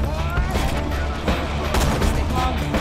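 Gunfire in the Borderlands 2 video game, a dense run of rapid, close shots that sound without a break over game noise and some voices.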